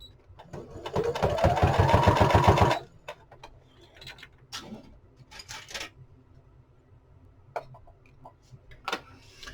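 A sewing machine stitches a lapbook for about two seconds, a fast loud whirring run that stops abruptly, followed by quieter desk clatter and light handling noises.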